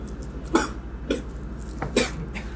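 Coughing from someone who has just taken a drag on a cigarette, three or four harsh, close coughs spaced about half a second apart over a faint steady hum.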